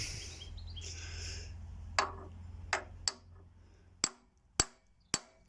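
A tool is tapped into the oil filler nut of a VW Beetle Type 1, giving a few sharp metallic taps spaced about a second apart over a low background hum, close and clear.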